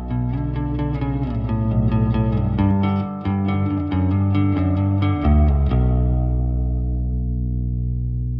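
Electric guitar chords ring out with a lush, shimmering plate reverb from the Audified ToneSpot Electric Pro plugin, then a final chord sustains and decays into a long tail.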